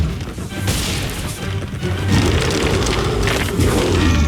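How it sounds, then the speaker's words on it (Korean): Bomb explosions in the video game Luigi's Mansion 3, loud booming crashes and thuds layered with excited voices and game sounds. "반사 나도 반사 폭탄 받아라"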